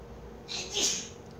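A single sharp sneeze bursts out in a quiet room, brief and close, with a faint breathy lead-in.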